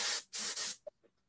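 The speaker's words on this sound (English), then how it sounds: "We had some spray paint." A spray paint can hisses out two sharp, loud bursts in quick succession, followed by a couple of faint clicks and a brief trailing puff.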